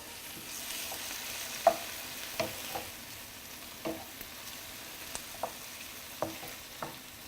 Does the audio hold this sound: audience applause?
no